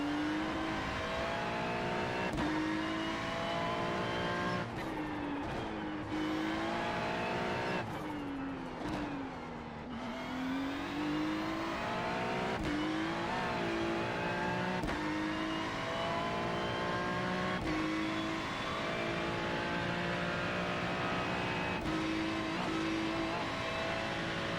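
Race car engine in the sim racing game iRacing, revving steadily through a lap with rising and falling pitch as it shifts and brakes into corners, loud and continuous with occasional tire skid.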